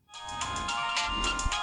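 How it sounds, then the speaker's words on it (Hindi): A phone ringtone sounds for an incoming call, a bright electronic melody of repeated tonal notes that starts abruptly and plays clearly with no one talking over it. "किसका फोन आ गया?"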